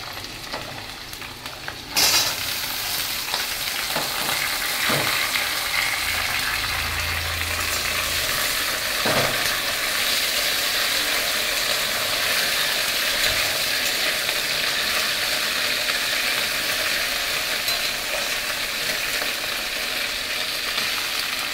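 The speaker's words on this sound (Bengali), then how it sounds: "ভেন্ডিটা আর আলুটা আমি লাল লাল করে ভেজে নেব" Okra and potatoes frying in oil in a pan, a continuous close sizzle with a few clanks of a stirring utensil early on, no talking.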